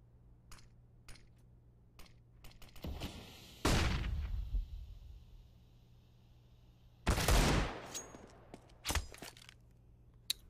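AK-47 and AWP gunfire rings out in a competitive first-person shooter match: sharp, scattered single shots and two louder, longer bursts, with faint clicks and footsteps between them.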